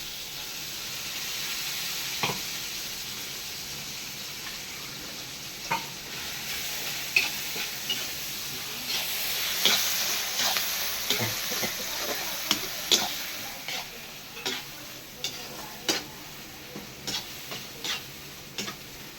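Masala for a village-style fish curry sizzles and fries in a pan with scraping stirring strokes and scattered ticks, steady and close, growing busier toward the end.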